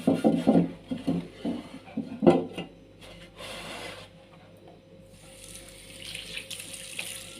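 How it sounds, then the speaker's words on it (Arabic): Clay cooking pots (tagines) are scrubbed with a loofah under running tap water: splashy rubbing bursts early, then a steadier flow of water, close and moderately loud. "الطواجن معايا هنا بقى همسكها تحت الميه كده، راح اغسلها بالليفه"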